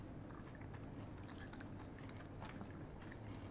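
Crunchy chewing of a Quest Hero protein bar with a crispy rice-style inside and chocolate and caramel layers, steady close-up crunching and biting for a few seconds with no talking.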